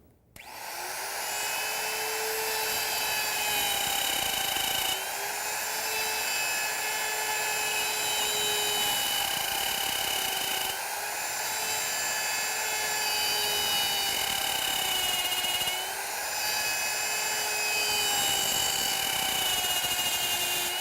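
A wood router cuts cabinet drawer parts with a steady high-pitched whine, dipping briefly every few seconds as each pass ends, continuous and close over about twenty seconds, with no speech.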